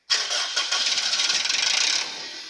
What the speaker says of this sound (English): So here, the engine has started. The engine is running right now.